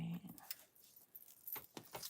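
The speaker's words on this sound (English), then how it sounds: "I'm going to cut just different lengths of this jute while we're waiting" Scissors snip through lengths of jute twine in a handful of quick, quiet cuts spaced irregularly over a soft room background.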